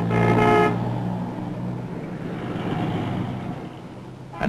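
A truck horn honks loudly for under a second, then engine rumble and road noise from trucks driving through dust continue steadily, ending with a short burst.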